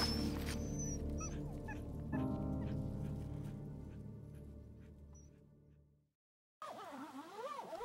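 Sled dogs on an expedition in remote northern Greenland whimper and yip in a steady chorus of high, wavering cries over a low rumble, breaking off into brief silence before more whining resumes.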